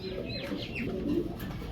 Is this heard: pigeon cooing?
yes